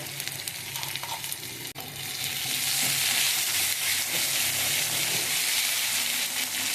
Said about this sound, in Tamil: உப்பு போட்டு வதக்கிக்கோங்க